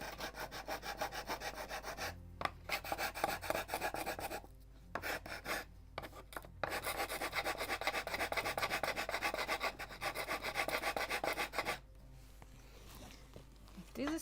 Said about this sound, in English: I bought today more sanding paper, stronger ones, so you can use that.